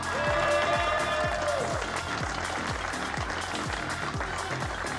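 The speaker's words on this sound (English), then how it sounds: "Let's hear a huge round of applause for the winner, Cristian Costoya!" Applause for the race winner at a WSK Super Master Series karting podium in Spain, continuous clapping over loud rhythmic music with a repeating beat and a whistle-like tone early on.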